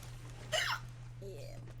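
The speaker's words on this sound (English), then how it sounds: "I'm getting the hiccups out of playing video games." A single sharp hiccup from a woman playing video games, a brief voiced catch followed by a quieter breathy sound, set over a steady low electrical hum indoors.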